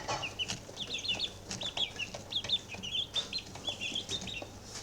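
Young chicks, on the large side for their age, cluck and cheep in short, bright bursts that repeat steadily and close up, with a low background murmur and no voices.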